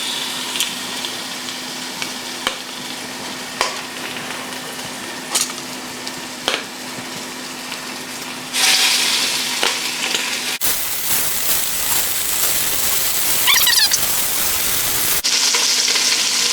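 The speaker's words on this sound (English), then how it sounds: "You need to hear a sizzle when you put in your meat" Beef sears on high heat in a pan, a steady bright sizzle with scattered pops and stirring scrapes, growing louder and harsher partway through.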